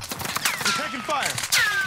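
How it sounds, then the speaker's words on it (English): Rapid bursts of gunfire in a video game, several quick cracks in close succession over about two seconds, mixed with brief voice chatter. "We're taking fire."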